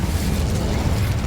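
The Incendio fire spell in Hogwarts Legacy erupts as a dense, roaring burst of flame, loud and sustained through the short moment with a rumbling low end, and no speech.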